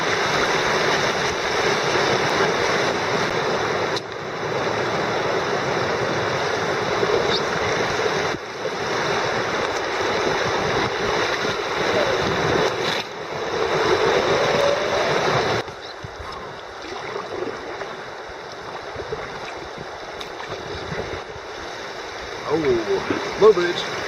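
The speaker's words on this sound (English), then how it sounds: "the river is wild and free, descending in a non-stop series of rapids" Whitewater of the Upper Salt River rushes steadily through a long run of rapids, a broad continuous roar that drops somewhat quieter partway through, with no voices over it.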